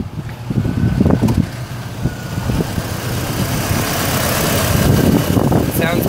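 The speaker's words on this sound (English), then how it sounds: "I'm going to start the vehicle for you so you can hear how it sounds when it first starts up" A 2006 Chevrolet Colorado engine cranks and starts, then settles into a steady idle, recorded outdoors with wind noise over the running engine.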